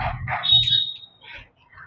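A dog barks on a tomato farm, a few sharp barks and yips close by at moderate loudness, with quiet outdoor background between them.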